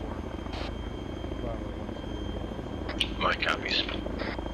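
A military transport helicopter's continuous rotor and engine drone fills the scene, loud and steady, while a radio voice briefly talks over it.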